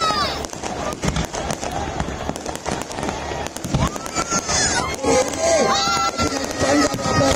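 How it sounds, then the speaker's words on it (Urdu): Independence Day fireworks at a stadium crackle and bang in rapid, dense bursts with whistling rockets, loud and continuous, while a crowd and voices murmur underneath. "اور یہ آپ کو آتش بازی دکھاتا ہوں جی"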